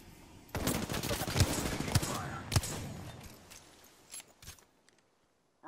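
Bursts of rapid gunfire in the Apex Legends game, several sharp close shots in quick succession that thin out into a few scattered pops before falling quiet.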